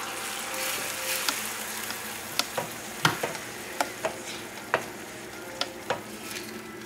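Risotto with spinach and mushroom is stirred in a sizzling pan, a continuous close fry with a series of light scraping clicks from the spoon at an uneven rhythm, with no talking.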